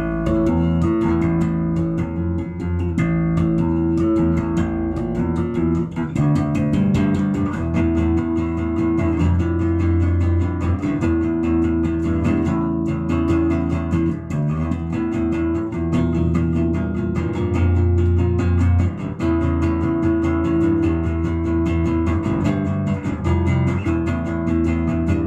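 Bass guitar playing the verse and then the chorus of a song, a sustained stream of deep, steady notes with some higher melodic movement, loud and continuous with no talking.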